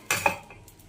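A lid set down on a pot of green gram porridge with coconut: two quick metallic clinks close by, fading fast into quiet.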